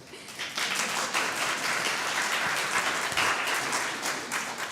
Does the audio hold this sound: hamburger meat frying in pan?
no